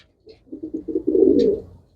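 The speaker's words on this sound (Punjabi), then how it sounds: "ਇਹ ਵੱਡਾ ਕਬੂਤਰ ਹੈ" A large pigeon gives a close, clear coo: a few quick throaty pulses that swell into one longer rolling note before fading.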